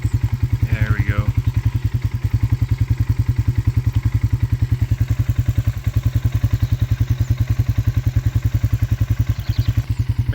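A four-wheeler ATV engine runs steadily at close range, a loud, even, rapidly pulsing idle throughout with a brief voice passing over it early on.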